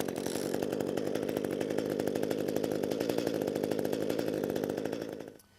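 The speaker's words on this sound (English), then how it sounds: "our gas hedge trimmer should fire on the first or second pull." A gas-powered ECHO hedge trimmer engine runs at a steady high-revving buzz, close and loud, for about five seconds before cutting off abruptly.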